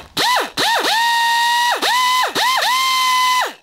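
A die grinder fitted with a sanding roll, running at reduced speed while porting small-block Ford cylinder heads, whines in steady high tones, dropping and spinning back up several times as it bites into the metal.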